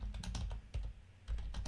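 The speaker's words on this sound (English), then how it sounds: "I hear you typing." Rapid clicking of keys on a computer keyboard, a steady run of close, light taps with a brief pause midway and no voices.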